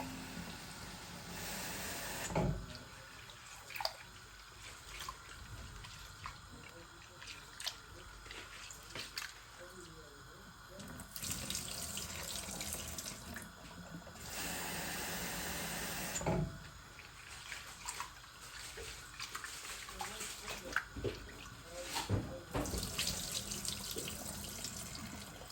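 Glutinous rice being washed under a running kitchen tap, with steady water flow into a sink broken by pauses and splashy bursts, close and moderately loud throughout.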